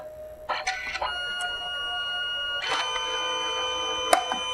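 A Canon CP1300 photo printer runs a print job with mechanical whirs and clicks, a few short bursts over a steady hum, close and fairly quiet.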